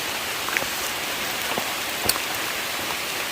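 Steady rain falls and patters on surfaces outdoors during mushroom foraging, a continuous hiss with a few sharper drops striking near the microphone.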